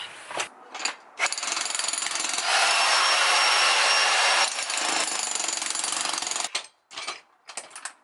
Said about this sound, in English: we've got the jackhammer out behind me